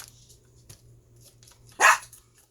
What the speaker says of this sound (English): now these dogs are barking